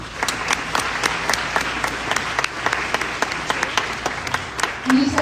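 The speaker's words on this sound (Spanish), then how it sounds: "para quien pido un fuerte aplauso." Strong applause from an audience at a school Model UN inauguration ceremony, loud and sustained with individual sharp claps standing out, and a brief voice or tone near the end.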